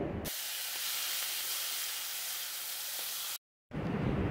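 Four tomatoes land in a hot pan with spices while cooking rasam, setting off a loud, steady hissing sizzle. The sizzle cuts out for a moment, then surges back.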